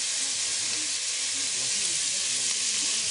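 Butter sizzling in a frying pan with chestnuts and bacon, a steady bright hiss and crackle throughout, close and fairly loud with no talking.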